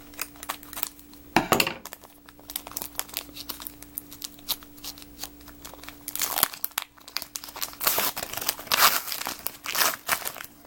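Foil wrapper of an Ender's Game Cryptozoic 2014 trading card pack being torn open, loud close crinkling and tearing in irregular bursts with sharp rips near the start and middle.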